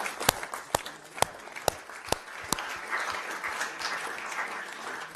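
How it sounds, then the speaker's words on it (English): An audience at a security policy talk breaks into applause after a speech, opening with a few sharp, separate claps that quickly merge into a softer, steady patter of clapping across the room. "perhaps I can ask you all to join us in a round of applause"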